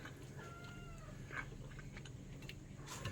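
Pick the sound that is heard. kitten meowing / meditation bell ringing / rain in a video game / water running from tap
kitten meowing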